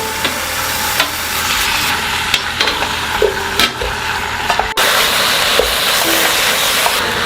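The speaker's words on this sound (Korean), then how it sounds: "여기에 잠깐 잘라놓은 미역도 모두 다 넣고 한번 볶아주세요." Seaweed sizzles steadily in sesame oil in a hot pot, with occasional clinks and scrapes of stirring; a brief pause then the sizzle resumes louder.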